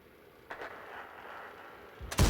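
A single heavy cannon shot from an AMX 13 105 tank in a tank video game booms loud and sudden at the end, following a quieter thud and low rumble.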